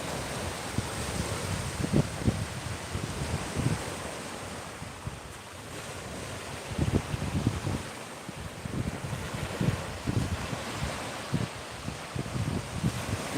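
Ocean waves wash onto the beach at Clearwater, Florida, a steady broadband roar of surf with low swells rising every second or two, close by and loud, mixed with gusty wind buffeting the microphone; no talking.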